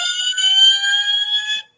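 A loud, steady electronic siren tone from a small scratch-built model fire engine sounds on its own, then cuts off abruptly.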